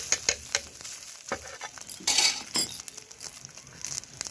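A cabbage leaf roll fries in white oil, giving a close crackling sizzle with bursts of louder spitting and occasional clinks of a utensil against the pan.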